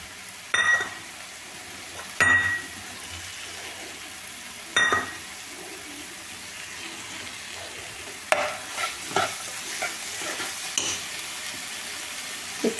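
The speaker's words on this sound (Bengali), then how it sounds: "এগুলো খুব ভালো করে 5 মিনিট নেড়ে নিই। পাঁচ মিনিট ভাজা হোক" Potatoes with poppy seed paste and a little sugar stirred and frying in a pan over a raised gas flame, with a steady sizzle and a few sharp scraping strokes early on, then softer intermittent stirring noises.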